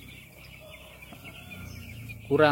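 First-week broiler chicks in a brooder keep up a steady stream of thin, high peeps. A louder burst of calls rises right at the end.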